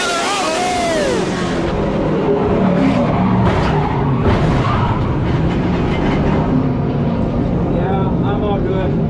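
Race cars at Auburndale speedway roar in a loud, continuous pack, with tires skidding and scrubbing during a first-lap crash as an announcer talks excitedly over the engines.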